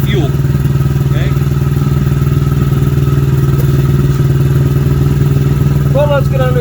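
A Honda Grom MSX125 motorcycle engine idles steadily and a little too fast, a close, continuous mechanical putter with faint clatter throughout and a brief chirpy squeak near the end.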